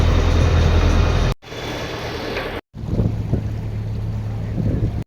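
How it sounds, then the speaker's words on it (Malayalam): A boat travelling on the water near Kochi, its steady low engine drone mixed with heavy wind buffeting the microphone, loud and close, with two brief dropouts. "തീരത്ത് ബോട്ട് എടുത്തു നേരെ പോവാണ്"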